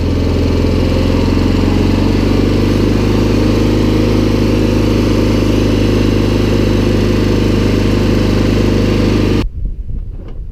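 A Cub Cadet 1811 lawn tractor engine runs at a steady, loud, close drone with an even throb for about nine seconds, then cuts off abruptly, leaving only faint rustling.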